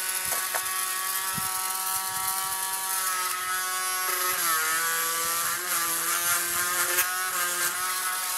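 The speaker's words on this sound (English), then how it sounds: "like Frankenstein, we need to screw the head in place" Mechanical whirring and ratcheting with steady tonal hum as a small Hexababy robot's head is screwed into place, continuous and close with a pitch shift partway through.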